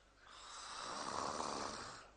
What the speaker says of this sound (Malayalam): ഈ കണ്ട നേരം മുഴുവൻ കൂർക്കം വലിച്ചിരുന്നത് നീ തന്നെയല്ലേ